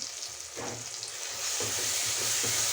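Masala for mutton biryani sizzles gently in a pan over low heat, a soft continuous frying hiss broken by a few quiet stirring scrapes, with no talking.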